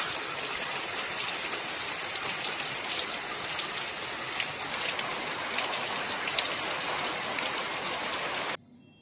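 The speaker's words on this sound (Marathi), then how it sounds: "आज पाऊस होता अचानक, खूप दिवसांनी आपल्या कोकणामध्ये पावसाचं आगमन झालेलं होतं" Steady rain patters and drips onto surfaces nearby in the Konkan region, a dense continuous wash of drops that cuts off abruptly at the end.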